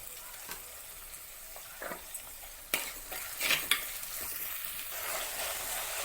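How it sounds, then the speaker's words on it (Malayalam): Onions frying in a pan for Kerala karimeen mappas, a quiet steady sizzle broken by a few scraping stirs and light utensil knocks against the pan. "നമുക്ക് ഉള്ളി ചേർക്കാം."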